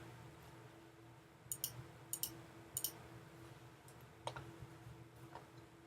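Computer mouse clicking during photo editing, a few sharp paired clicks in quick succession and then scattered single clicks, close but quiet over a faint background hum.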